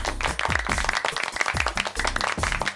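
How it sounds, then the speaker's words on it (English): A round of applause from a small group for a waitress: dense, steady clapping at close range that runs on for the whole stretch without voices. "Round of applause for"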